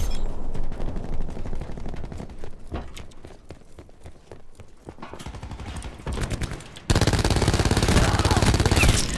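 Gunfire in the video game Call of Duty: Black Ops 4, rapid loud bursts of automatic fire with single shots and clicks in between, ending in a dense continuous roar of game action.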